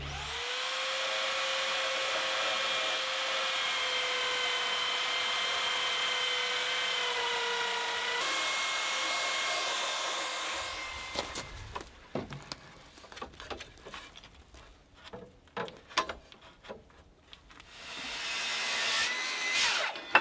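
A steady whining power sander runs continuously for several seconds on dry interior walls, then gives way to irregular scraping, rubbing and knocking sounds before the motor rises again.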